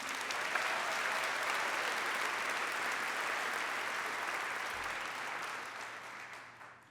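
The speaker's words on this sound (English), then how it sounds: "I would like to give a round of applause to ourselves and the people who have supported us along the way." Graduates and audience applauding at a university commencement for the College of Business and Public Management, a broad sustained wash of clapping from a large crowd that fades out toward the end.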